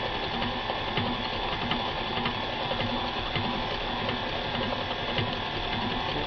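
An electric mixer whirs steadily through marble cake batter, a constant mechanical hum with a faint ticking rattle that holds without a break.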